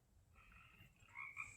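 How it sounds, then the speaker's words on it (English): Frogs croak faintly at night in short, rising calls, a few quiet pulses near the end over a low background hum. "Frogs are saying goodbye too."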